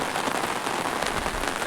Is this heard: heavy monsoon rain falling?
yes